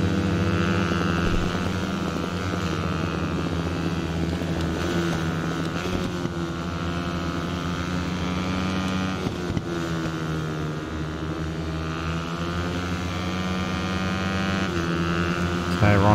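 Husqvarna supermoto motorcycle engine in the racing game Ride 4 at Cadwell, a steady loud high-revving drone with shifting harmonics that continues throughout with no talk.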